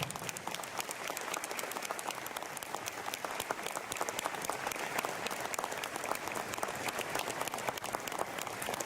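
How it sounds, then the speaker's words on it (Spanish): A crowd at an anniversary ceremony for Villa Ángela applauds in a dense, steady patter of many hands that carries on without letup, with faint voices under it. "¡Fuerte, fuerte el aplauso!"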